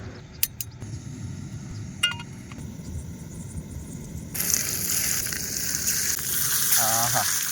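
Small masala-coated fish pieces frying in oil at a night campsite, a steady crackling sizzle that grows louder and denser midway, with a few sharp clicks early on.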